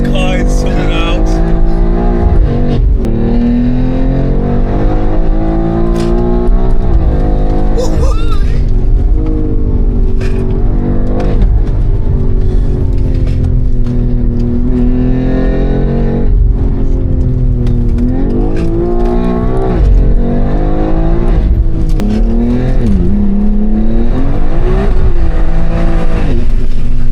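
A BMW X3 M driven hard on the Nürburgring, its engine roaring loud and steady throughout with rising and falling revs as it accelerates through the track, while people talk and cheer over it.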